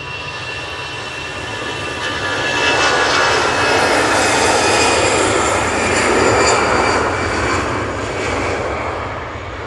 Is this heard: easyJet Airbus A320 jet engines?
yes